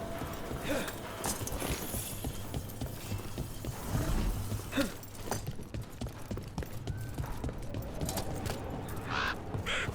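Crows caw in the city of Treviso in Dragon Age: The Veilguard, heard amid the steady clip-clop of horse hooves and mechanical ambient noise, the calls fairly faint within the busy game soundscape.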